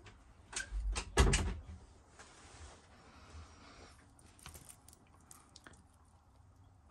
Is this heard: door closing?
yes